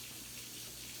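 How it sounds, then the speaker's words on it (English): Hot water pouring steadily into a bowl for bread dough, a brief continuous splashing stream heard alone and fairly quiet. "we're going to start with putting some hot water in here"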